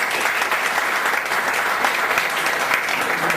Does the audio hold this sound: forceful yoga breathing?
no